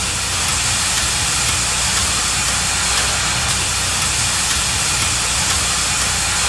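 Steam locomotive Savannah and Atlanta 750 in the Trainz video game, a loud steady roaring hiss of steam and running gear, continuous and close, with no talk.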